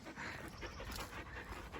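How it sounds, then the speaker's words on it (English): Several dogs pant steadily close by in a quiet forest, a soft continuous breathy rhythm with no voices. "With my panting dogs either side of me."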